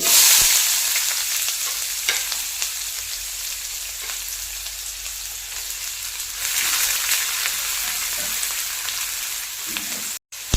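Onion sizzling in hot oil with cumin, mustard seeds and curry leaves, for a Kannada bottle gourd stir-fry: a dense, even hiss like light rain that carries on steadily up close, with no voices, before stopping abruptly near the end.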